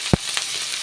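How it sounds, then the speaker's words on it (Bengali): Onion and chilli sizzle in hot oil in a home kitchen, a steady bright frying hiss with a couple of short stirring clatters, close and moderately loud, no voices. "পেঁয়াজ লঙ্কাটা ভাজা হয়ে গেছে"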